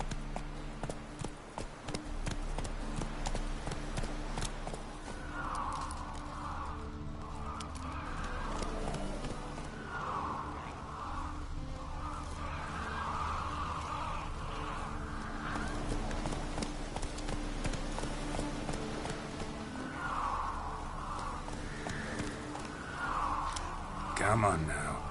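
Hooves of a horse in The Witcher 3 clip-clop steadily through the game's soundscape, a continuous rhythmic trotting beneath background music and ambience with a voice speaking at times.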